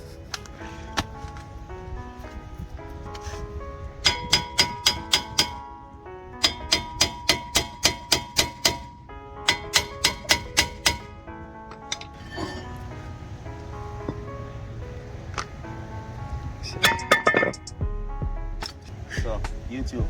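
A hammer bangs on a car brake rotor during a rotor and brake pad swap on a Dodge Durango, with bursts of sharp metallic strikes in quick, rhythmic runs, close and loud, with talk in between.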